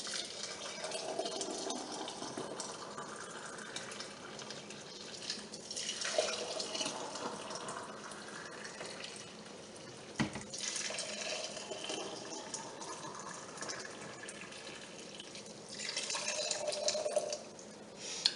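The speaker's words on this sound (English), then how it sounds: "I'm going to pour some boiling water into the jars to sanitize them." Boiling water from a kettle pours into glass jam jars for sterilizing, a steady close splashing trickle that rises and falls in pitch as each jar fills, with brief pauses between pours and no talking.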